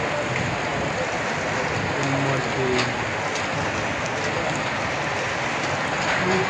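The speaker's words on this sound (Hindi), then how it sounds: "धुआंधार बारिश भई रहा है यहाँ एकदम धुआंधार बारिश" Heavy torrential rain with snowfall pours down in Hetauda, Nepal, in a dense, unbroken roar, a constant hiss of water drumming on surfaces with no letup.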